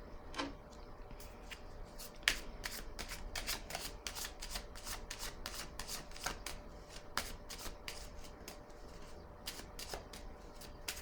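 Tarot cards are shuffled continuously, a dense, steady run of crisp riffling clicks and soft slaps close to the listener, with no talking.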